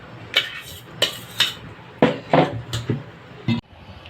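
Homemade ghee being stirred in a pot on a gas stove, with a string of sharp metallic clinks and scrapes from the spoon against the pan, close and fairly loud, separated by short pauses.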